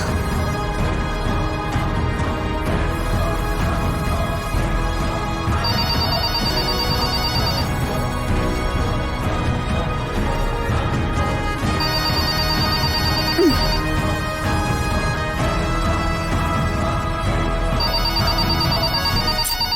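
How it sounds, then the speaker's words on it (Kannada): A telephone rings unanswered in a Kannada TV serial scene, its electronic tone sounding in three repeated bursts a few seconds apart over a constant, dense background bed. "ಫೋನ್ ರಿಂಗ್ ಆಗ್ತಾ ಇದೆ, ಆದ್ರೆ ಯಾರು ತಗೊಳ್ತಿಲ್ವಲ್ಲ"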